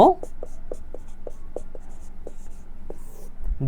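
Handwriting with a pen on paper: a quick, regular run of light scratchy strokes and taps, close and fairly quiet over a faint room background.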